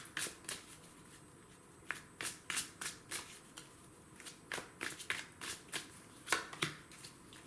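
A tarot deck being shuffled by hand, giving a steady run of crisp, papery riffles and flicks, close and fairly quiet, with no talking.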